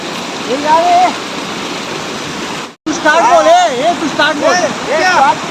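Water rushes and roars steadily at a dam in the Konkan countryside, a loud broadband flow with a brief cut midway, while several people talk and shout excitedly over it.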